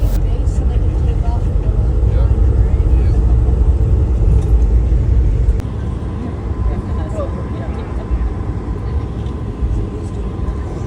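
An Airbus A220 airliner taxis to the gate, its cabin filled with loud, steady low rumble that drops a little partway through, and a voice talks over it.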